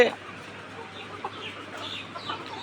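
Laying hens on a layer farm cluck softly in a steady murmur, with occasional sharper calls standing out close by against a low background hum.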